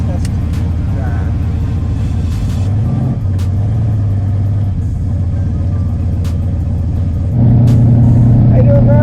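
Turbocharged Chevrolet Chevelle with a new battery on a test drive, its engine a loud, steady rumble close by that swells as it accelerates near the end.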